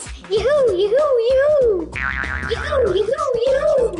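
A voice mimics a silly robot with repeated sing-song whooping calls that rise and fall in pitch, sounding close and loud, two bursts of three calls each with a brief pause between.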